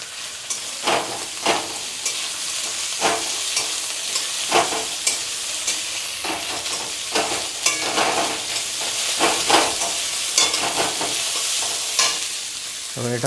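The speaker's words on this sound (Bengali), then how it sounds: "এবার এটা ভাজা হোক।" Vegetables fry in hot oil in a wok while making homemade chow mein, with a steady loud sizzle broken by regular scraping bursts of stirring throughout.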